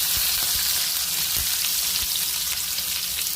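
Onions and curry leaves fry in hot oil with mustard seeds and cumin for a North Karnataka bitter gourd palya, giving a loud, steady sizzle with a few low knocks from stirring.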